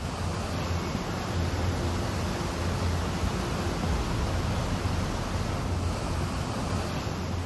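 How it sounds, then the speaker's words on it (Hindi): A flooded stream in Manali roars after heavy rain, a loud, unbroken rushing of water that fills the whole stretch with no pauses or voices. "नीचे नाला उफान पर है।"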